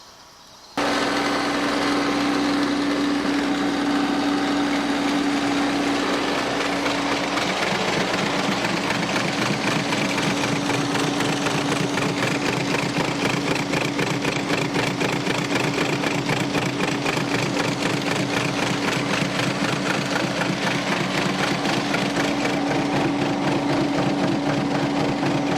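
A Mahindra tractor with a bush hog rotary cutter attached starts up after a brief quiet moment and runs steadily nearby, giving a loud, even engine drone with a constant tonal hum. The PTO spins while the cutter itself fails to turn.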